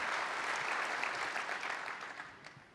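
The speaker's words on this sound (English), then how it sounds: "Ladies and gentlemen, please give them a round of applause." Audience clapping at a technology keynote after a product demo, a sustained crowd applause that holds steady and then gently tapers toward the end, heard from within a large hall.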